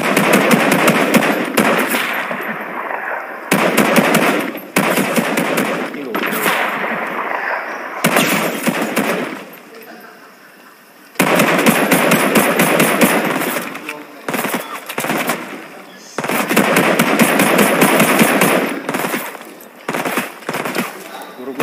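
Gunfire in the Fortnite video game comes as loud, dense bursts of rapid automatic shots with brief gaps between volleys. A player talks and reacts over the shooting.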